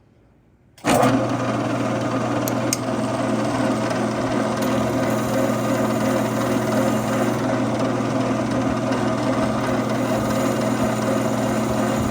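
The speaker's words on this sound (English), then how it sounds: "we will be able to drill this straight through" After a moment of quiet, a drill starts up and grinds steadily through a shotgun's metal rib, a loud continuous whirring that holds without pause.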